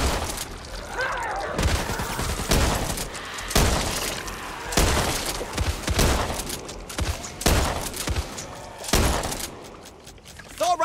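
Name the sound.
assault rifle gunfire in video game Back 4 Blood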